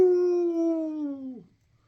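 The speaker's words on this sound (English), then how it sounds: "As the giant wolf dog moved towards Patch, he let out a gnarly and chilling howl, while instantly buckling in pain." Cartoon sound effect of a giant wolf dog howling in pain: one long, clear, wavering howl that slides slowly downward and then drops off abruptly into silence.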